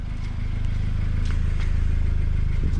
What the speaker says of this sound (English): You hear that hunting idle?